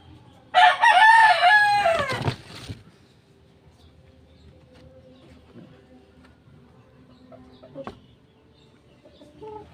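A Boston Shooter bloodline gamefowl rooster crows once, loud and close, for about two seconds, followed by faint clucks and scattered small sounds in a quiet yard.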